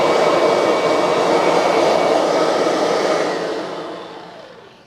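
A Kirby Sentria vacuum cleaner hose blows air outward, a loud, steady rushing roar held close up that fades away in the last second.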